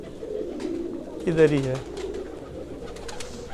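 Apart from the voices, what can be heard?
Rampuri pigeons cooing in loft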